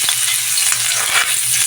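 Ginger sautés in a pan with a loud, close sizzle, punctuated by several short scraping stirs and taps of the spatula.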